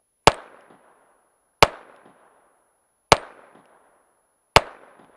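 Four sharp pistol shots from a Ruger SR22 at a bottle outdoors, evenly spaced about 1.5 seconds apart, each a loud crack with a short fading echo, no talking.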